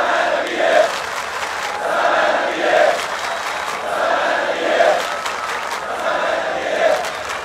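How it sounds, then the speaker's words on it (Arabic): Football club supporters in a stadium crowd chant the name of their captain Osama in a repeated rhythmic call, loud, massed and continuous with periodic swells. "النادي الجماهير دلوقتي بتنادي الكابتن أسامة زي ما انتم شايفين"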